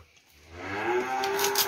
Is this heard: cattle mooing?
yes